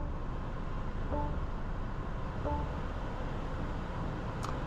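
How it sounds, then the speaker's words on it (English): Steady low cabin rumble of a 2024 BMW X1 M35i with its 2-liter turbocharged four-cylinder, heard from inside on the move, with constant road and engine noise, a few faint tonal blips, and no talking. "Today we're going for a drive in this 2024 BMW X1"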